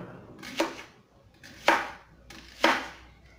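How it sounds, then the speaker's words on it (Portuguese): Knife chopping onion on a cutting board, three sharp separate chops spaced about a second apart, close and clear with a quiet kitchen background. "Vamos picar aqui"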